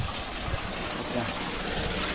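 Water gushes out steadily from a farm water pump motor that has just been switched on, a close, continuous watery rush, with a voice talking over it.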